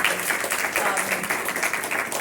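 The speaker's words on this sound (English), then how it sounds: "let's just please give him a round of applause" A short round of audience applause at a motivational sharing gathering, a dense patter of clapping at moderate level with possible voices mixed underneath.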